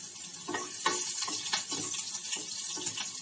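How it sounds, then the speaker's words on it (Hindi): Green chillies and garlic crackling in hot oil after mustard seeds have popped, a continuous sizzle with sharp irregular pops and spits, close and clear with no talking. "मिर्च भी तड़कती है"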